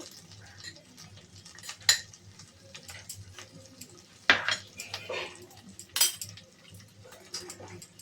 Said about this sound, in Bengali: এখানে সর্ষে আর পোস্তর পেস্টটা তৈরি করে নিয়েছি, সেটা যোগ করে দেব। আর একটু মশলাটা কষিয়ে নেব।